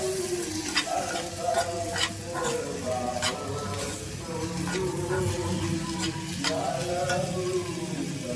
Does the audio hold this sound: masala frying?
yes